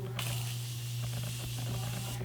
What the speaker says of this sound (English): I would definitely get a setting spray.